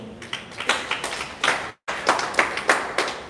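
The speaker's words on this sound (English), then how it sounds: "If you've understood, clap for yourselves" An audience at a wellness products presentation claps in a lively, uneven patter of several hands with distinct sharp strikes. The sound cuts out briefly midway, then resumes at the same moderate, close level.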